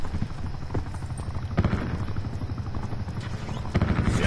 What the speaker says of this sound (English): Chopper above.